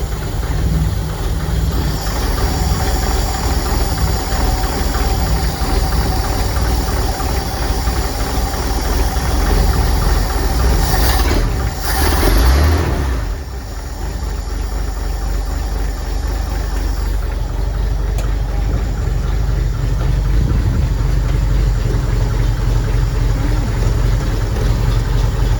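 A Chevy cab-over van conversion's engine idling, a steady, loud, close mechanical rumble with a slight knocking texture. It holds for the whole stretch, with a brief disturbance near the middle.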